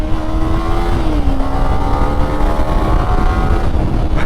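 A Kawasaki Ninja 300 motorcycle engine revs high in first gear, a loud, steady, continuous whine with rising and falling pitch, close and alone with no talk.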